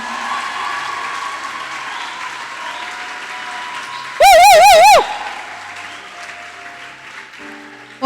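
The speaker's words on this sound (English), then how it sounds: "I want you to clap that clap again." An audience at a closing ceremony keeps up a steady wash of applause, cut through midway by a loud warbling electronic tone lasting under a second, before the clapping thins out.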